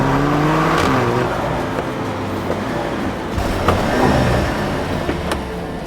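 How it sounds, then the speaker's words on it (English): A Mercedes GLC 43 AMG engine runs loud and steady with a continuous droning hum, a few brief rising revs and small shifts in pitch over the whole stretch. "this powertrain is not a V6 or a V8, but this engine is no joke"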